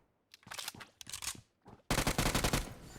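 Machine-gun fire in PUBG Mobile: two separate rapid bursts, then a louder, denser sustained burst after a short pause, close and sharp with no talking.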